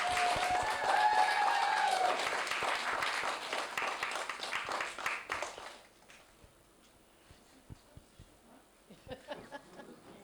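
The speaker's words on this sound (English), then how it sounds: "Give a round of applause to come up." An audience at a Windrush spoken-word event applauds loudly for about six seconds, a thick crowd clapping that fades out, leaving scattered faint claps and small sounds in a quiet room.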